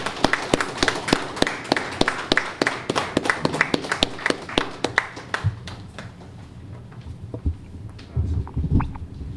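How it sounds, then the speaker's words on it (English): At a fire and rescue service closing ceremony, a small audience claps in crisp, distinct handclaps that thin out and fade, followed by low murmuring and shuffling. "Let's all give everybody a round of applause,"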